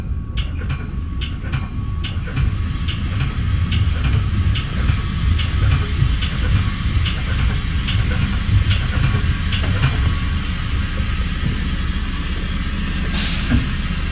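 A westbound intermodal freight train on the BNSF line rolls past Belmont station, heard as a steady continuous rumble with regular clicking wheel beats throughout, fairly loud and close, with no talk.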